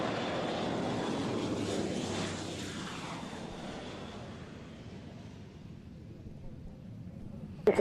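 German Air Force aircraft on final approach to runway 27 at a warbirds show, a loud broad engine roar that slowly fades, with wind noise throughout.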